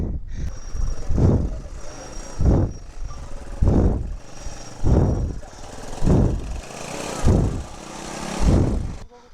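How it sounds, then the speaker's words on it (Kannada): An off-road motorcycle engine runs on a hill trail, surging in loud, low, rhythmic bursts about every second over a steady idle, with voices nearby. "ಸುಮ್ಮನೆ ಗಾಡಿ ಹಚ್ಬಿಡಿ"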